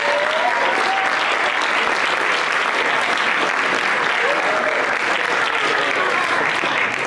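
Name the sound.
audience applause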